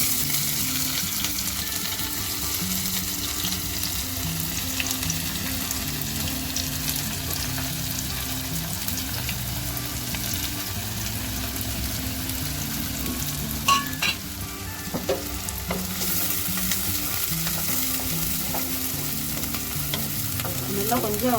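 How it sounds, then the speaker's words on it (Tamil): Onions frying in a pan with cumin for mutton varuval, sizzling steadily and up close, with occasional scraping and stirring strokes against the pan near the end. "இப்போ இதில் வெங்காயம் போட போகிறோம்."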